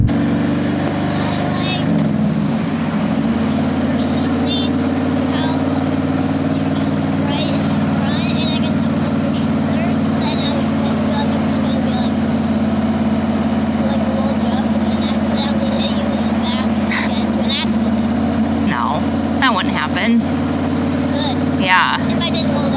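A steady motorcycle engine drone hums continuously, with wind rush over it, heard while riding as a passenger.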